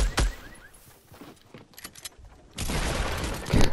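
Gunshots in a shooter video game: a sharp shot at the start, scattered faint pops, then a loud, dense burst of rapid fire that keeps going to the end.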